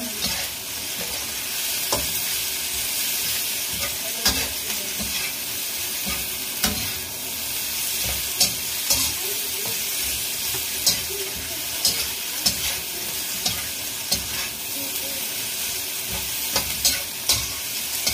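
Cabbage and other vegetables for pancit bihon sizzle and hiss in a hot pan while a utensil scrapes and stirs at irregular intervals, continuous and fairly loud, with no talking.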